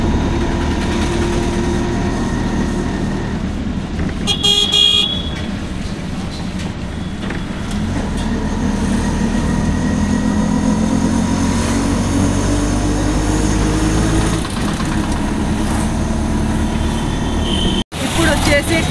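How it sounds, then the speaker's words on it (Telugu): An auto rickshaw rides through traffic after rain, its small engine droning steadily alongside passing vehicles, with a voice talking over the noise throughout. "ఇప్పుడు ప్రస్తుతానికి మనం ఆటోలో ఉన్నామండి"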